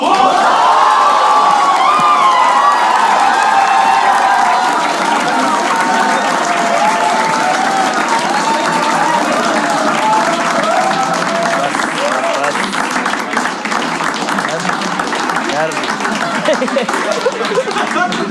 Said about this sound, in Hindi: So start clapping for very good friend of mine. Give it up for Ashish Solanki.